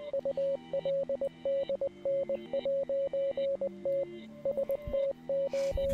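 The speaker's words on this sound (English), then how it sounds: "So that's Morse code, I'm assuming." A Morse code signal of steady tone beeps, short and long pulses keyed in a rapid rhythm, loud and clear with faint music-like tones underneath and a brief noisy burst near the end.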